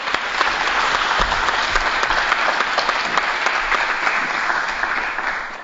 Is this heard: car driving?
no